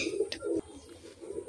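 A desi pigeon coos close by: two soft, throaty coo phrases, then a pause and the start of another, with a faint tap between them.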